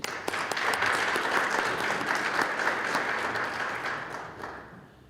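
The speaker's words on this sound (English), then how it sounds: "Please give yourself a round of applause." An audience at a youth parliament session in the Free State bursts into a round of applause, loud and dense from the start, holding steady before gradually thinning out toward the end.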